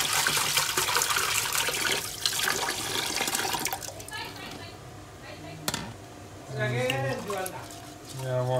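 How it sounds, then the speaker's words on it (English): Tap water runs loudly over basmati rice being rinsed, a steady rushing splash that eases off partway through, followed by a person speaking. "Now we'll take the water for the third time and wash it again under running water."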